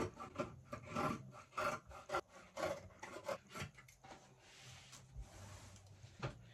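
Scissors cut through Ankara cotton print fabric along a kaftan's shoulder slope, giving a series of quiet, close rasping snips in an uneven rhythm, with no talking.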